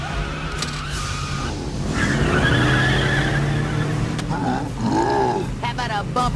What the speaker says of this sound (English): He's pulling against 200 horsepower. I put it in reverse.